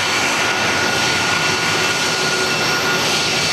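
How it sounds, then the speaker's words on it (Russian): Boeing 747 airliner approaching to land at Sochi, a steady, loud, broadband jet roar that holds evenly throughout with no talk. "на посадку заходит самолет с леопардом на борту"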